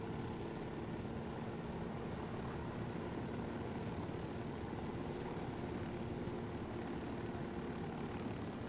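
Low droning rotor and engine rumble of a helicopter flying off in Ghost Recon Wildlands, a steady even hum held at moderate distance without talk.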